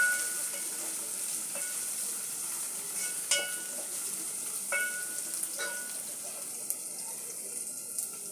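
Onion, ginger and garlic fry in hot oil with a soft, steady sizzle, broken by a few sharp clinks and scrapes of stirring in the pan.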